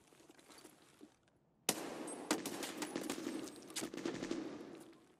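Gunfire in the video game Escape from Tarkov: after a quiet stretch, a loud, close burst of automatic shots erupts, followed by a dense run of sharp, repeated cracks and rattling fire.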